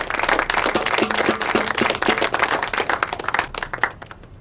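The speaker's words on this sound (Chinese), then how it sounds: "大家鼓掌，欢迎" Applause from a crowd of army recruits welcoming commanders to their company, dense continuous clapping that stays loud throughout, with no speech over it.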